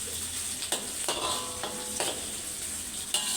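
Onions frying in a pan for muttai sambal, a bright continuous sizzle close by, broken by several spatula strokes spaced roughly half a second apart, with no voices.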